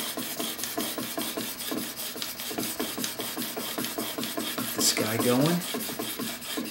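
A woodworking chisel held in a sharpening jig is pushed across a fine sharpening stone, giving a steady run of rhythmic rasping strokes close by, with a brief voice partway through.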